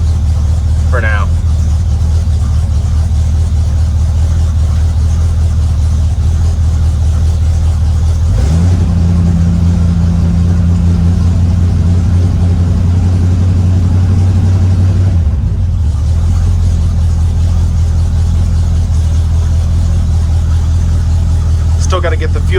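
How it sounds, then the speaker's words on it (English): An older car engine idles unevenly while still cold, missing on one cylinder, a steady loud rumble running throughout with a brief rise in revs partway through. "Sounds like we're missing on a cylinder, but that happens every now and again until she gets warm"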